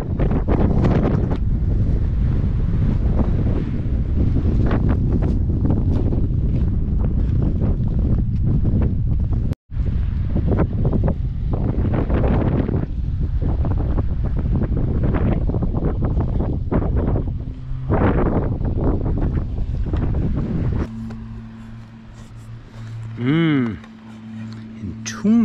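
Strong wind on a fjord hillside near a hut along Lysefjorden, roaring and buffeting the microphone almost without pause, with a person talking over it and a brief dropout midway.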